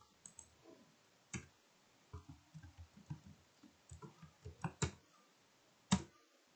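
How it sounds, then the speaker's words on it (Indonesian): A computer keyboard is tapped to enter an IP address, giving a scattered run of sharp individual key clicks at an uneven pace, close and fairly quiet over near silence. "Coba kita ketikkan."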